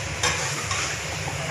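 Karela gosht masala being stirred and mixed in hot oil, with a steady frying sizzle and soft scraping strokes of the spoon, close and continuous, no voices.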